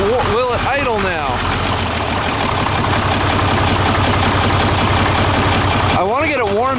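An old tractor engine idling close by, a loud rough rumble with uneven chugging, with speech-like tones over it at the start and end.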